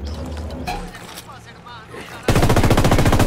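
Gunfire in Ghost Recon Wildlands at the Nidia Flores hacienda: someone talks over quieter game sound, then a loud, rapid automatic burst of shots runs continuously to the end.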